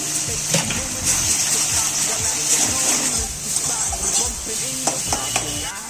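Egg cracked into a pan of tomatoes in hot oil for a dhaba-style egg tarka dal, giving a steady close sizzle with repeated stirring scrapes and clatters throughout, and no talk.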